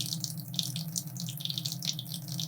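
Water runs steadily from a tap into a sink during a static balloon experiment, a continuous close hiss and splash with slight fluctuations and no talking.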